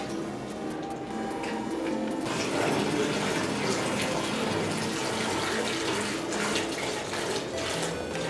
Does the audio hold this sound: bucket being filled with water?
yes